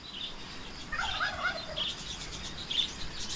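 Two young pet birds, kept caged because they are still small, give short chirping and gobbling calls, a few faint-to-moderate bursts scattered over a steady outdoor background hiss.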